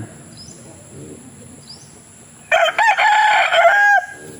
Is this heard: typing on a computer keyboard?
no